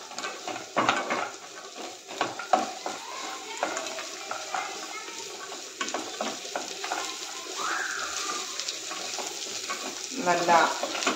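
Cashew nuts and grapes frying for a sweet, a steady sizzle with stirring and scraping in a pan, fairly close, while a voice talks over it.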